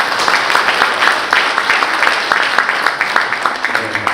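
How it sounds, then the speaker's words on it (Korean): A Rotary district assembly audience applauds to welcome a foundation trustee to the stage, with individual claps standing out in a fairly loud, uneven patter and some crowd murmur underneath. "큰 박수로 맞이해 주시기 바랍니다"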